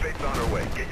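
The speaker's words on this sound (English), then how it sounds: "Now gunshots" Gunshots in the video game Mirror's Edge crack in a rapid, loud volley that is blended with a speaking voice.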